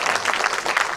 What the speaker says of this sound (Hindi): ये जो आपका की जो तालियां होती है, साउंड इफेक्ट का काम करती है।